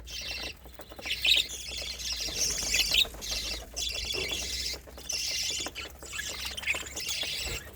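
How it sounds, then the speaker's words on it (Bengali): Budgerigar chicks in clay nest pots give a quiet, steady chorus of high chirps and squeaks in bursts, with soft rustling and a low hum underneath. "প্রত্যেকটা হাড়িতে আপনি শুনতে পাচ্ছেন"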